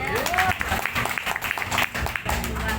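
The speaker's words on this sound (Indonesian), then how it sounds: "Tepuk tangan lah Bu." Audience at a Halal bi Halal gathering breaking into applause, a short burst of clapping mixed with a speaking voice and crowd murmur, moderately loud and close.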